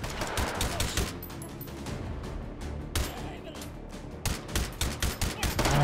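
Rapid gunfire crackles in the VR shooter Hot Dogs, Horseshoes & Hand Grenades on the night-time Abandoned Port map, with bursts and single shots in clusters, loudest near the end, mixed with a voice and game noise.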